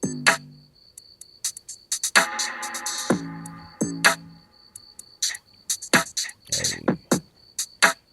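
An 808 bass thumps under a sparse beat, its low booms landing between crisp percussive clicks while a high, insect-like synth tone hums steadily on top.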